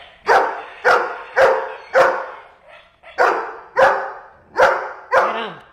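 A goldendoodle barks close and loud in an even, rhythmic series of about eight sharp barks, with one softer whimpering sound partway through.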